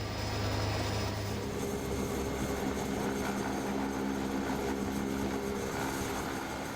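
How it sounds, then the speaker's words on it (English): Cabin of a Cessna Caravan EX single-engine turboprop in flight over Tanzania, a steady loud engine drone and airflow roar with low harmonic hum, unbroken throughout and no voices. "I am flying in a Cessna airplane from Caravan EX series."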